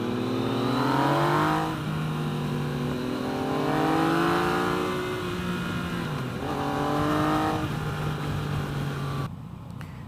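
A 2017 Yamaha FZ-09 motorcycle engine with a Yoshimura exhaust pipe revs repeatedly up and down in steady swells, loud and close, before cutting off near the end.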